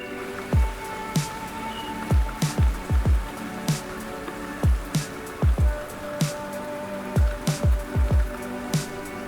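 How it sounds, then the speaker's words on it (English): Steady heavy rain falls on a surface beside a carp fishing swim at Christchurch, with frequent loud, close drips and splats landing in irregular bursts over a constant hiss. "it's raining quite heavily as well, to be honest"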